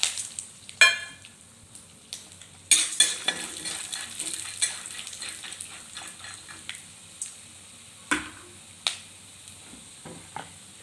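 Peanuts and chana dal fry in coconut oil in a pan, giving a close, crackling sizzle broken by sharp scraping stir strokes and scattered clicking pops.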